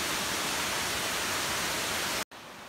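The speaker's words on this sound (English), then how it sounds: "And there's the waterfalls." Kamala Falls waterfall in Phuket roars as a loud, steady broadband rush close by, cutting off abruptly near the end.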